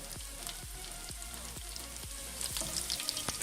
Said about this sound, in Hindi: अभी हम इसमें ऐड कर रहे हैं ज़ीरा। आपने इसको भी 1 मिनट के लिए ब्राउन कर लेना है थोड़ा सा।